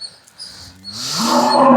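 A cow on a farm gives one loud, close, drawn-out moo that rises and swells, after faint high background noise, with no talking.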